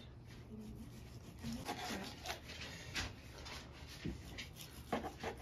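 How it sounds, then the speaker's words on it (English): A knife slices steak into thin strips on a board, making faint, close scraping and tapping strokes in an irregular rhythm over a quiet room. "we're gonna slice this steak. Into nice thin strips"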